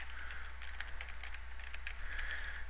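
Steady typing on a computer keyboard, rapid light key clicks running through the whole stretch over a constant low electrical hum, with no voice.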